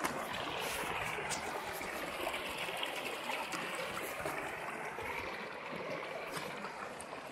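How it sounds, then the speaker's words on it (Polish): Steady rushing and trickling of water over rocks at a small waterfall in Beniowa, Bieszczady, Poland, a continuous broadband wash with no voices, close and even throughout. "dźwięk fal tym wodospadzik taki mały"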